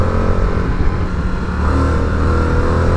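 An Indian FTR motorcycle accelerates hard with a loud, steady engine roar heard up close from the rider's position for a few seconds, no talking over it.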